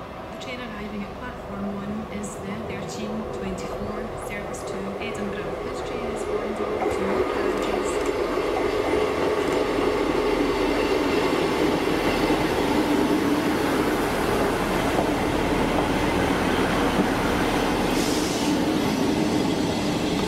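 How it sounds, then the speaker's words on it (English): A ScotRail passenger train, a diesel unit on the service from Glenrothes with Thornton to Edinburgh, passes Dalmeny station. The rumble and rail clatter build and stay loud and near as the carriages roll by. "the 1323 ScotRail service to Edinburgh from Glenrosses with Thornton"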